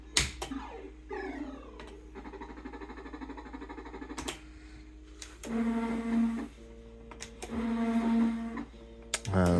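A JPM MPS2 Switchback fruit machine running, with repeated electronic beeps, tonal jingles and clicking reel sounds at moderate volume, playing alone.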